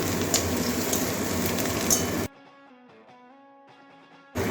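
Crushed garlic frying with onions in a pan sizzles steadily for about two seconds, breaks off into a quiet stretch of soft tonal sound, then the sizzle briefly returns at the end.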